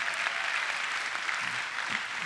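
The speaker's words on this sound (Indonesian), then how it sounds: "Tepuk tangan sekali lagi dong, yang ini keren banget" Conference audience applauding during a talkshow session, a steady dense wash of clapping filling the room at moderate level throughout, with faint voices briefly audible underneath.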